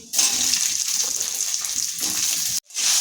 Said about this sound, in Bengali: গরম তেলে দিয়ে দিচ্ছি কালো জিরে সম্বরা। ভেজে নেওয়ার পর দিয়ে দিচ্ছি কুঁদরি।